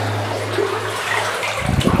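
Knee-deep water churns and sloshes as someone wades along ore cart rails inside the abandoned Winlock mine in Washington, a steady close splashing that grows rougher toward the end.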